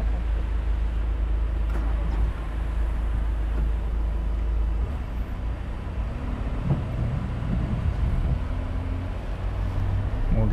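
A learner's car engine hums steadily and rises slightly as the car moves off, with constant low road and engine rumble throughout and no speech.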